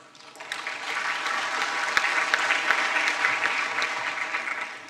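Audience applause welcoming the FAO chief economist at a United Nations launch of the SOFI 2025 food security report, a steady dense wash of clapping from a large hall that swells after a quiet start and holds for several seconds.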